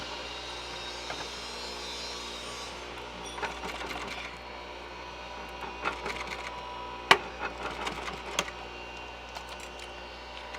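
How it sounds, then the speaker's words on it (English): A sewing machine stitching carpet for a Model A Roadster interior runs steadily with a fast mechanical whir, joined by a few sharp clicks and knocks near the end. "we're going to go over to the sewing machine and we are going to sew on our line"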